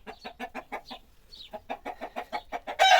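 Chickens cluck in a rapid, rhythmic series of short calls close by as newly moved hens settle into a new coop in hot weather, ending with a louder burst of noise.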